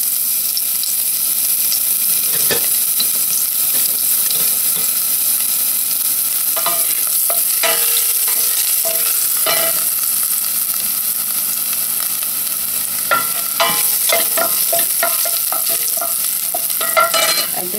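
Ginger hits hot oil in a pan with a continuous, loud sizzle, broken by scattered crackles and spattering pops that grow busier toward the end, with no talking.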